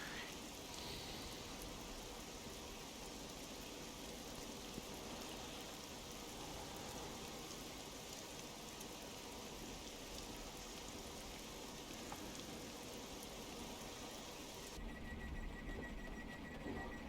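Steady, dense rain falls at Harwich Town station in a train simulator game, a continuous even hiss with no talk, shifting slightly in tone near the end.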